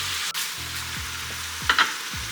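Vegetables sauté in a pan with a steady, close sizzle while utensils knock and scrape against the pan a few times.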